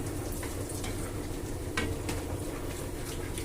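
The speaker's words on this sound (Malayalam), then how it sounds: "അപ്പോൾ നമ്മുടെ കപ്പലണ്ടി ഇങ്ങനെ നല്ല ഫ്രൈ ആയി വന്നുകൊണ്ടിരിക്കുന്നു" Peanuts frying in a pan while being stirred, a soft continuous sizzle with light scraping and rattling of the nuts, faint and close, no talking.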